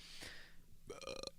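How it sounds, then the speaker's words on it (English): A man burps twice, a short burp followed by a longer, louder, drawn-out belch with a croaky, voiced tone, close to the mic in a podcast setting. "here come the burps already"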